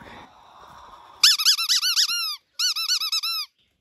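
A dog's rubber squeaky toy gives a rapid run of loud, close squeaks in two bursts with a short gap between them, following a few seconds of faint background noise.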